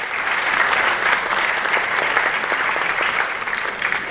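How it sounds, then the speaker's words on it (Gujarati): Audience at a Gujarati cultural evening of the Indo-American Senior Citizen Center of New York applauding as a speaker is welcomed onto the stage, dense steady clapping from a full hall throughout. "હું તાળીઓના વિવેક સાથે મંચ પર આમંત્રણ આપું છું"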